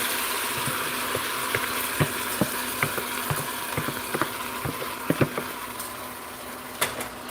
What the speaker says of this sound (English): So what I'm going to do is pour this